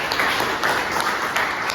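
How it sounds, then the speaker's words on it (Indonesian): Classroom applause during a teaching session, a dense burst of clapping from a group of students, continuous and fairly loud for under two seconds. "Sekali lagi, mari kita tepuk tangan untuk penemuan Anda ini."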